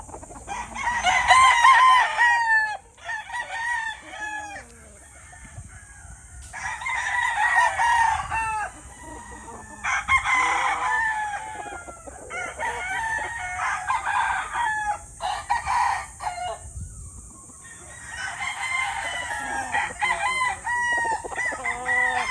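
Kelso over Bruce Barnett cross gamefowl roosters crow repeatedly, with several loud, close cock-a-doodle-doo calls following one another in overlapping bursts against a quiet yard background.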